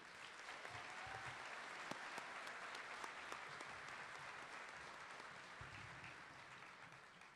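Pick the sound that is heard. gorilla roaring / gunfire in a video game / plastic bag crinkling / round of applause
round of applause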